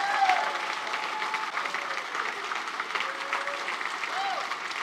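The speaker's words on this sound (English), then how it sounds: "Give them a round of applause." An audience at a city state-of-the-city address breaks into sustained applause, a dense wash of many hands clapping at steady volume, with a few faint voices underneath.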